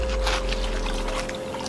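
Water pours and trickles steadily for a couple of seconds, loud and close, with a constant low hum underneath.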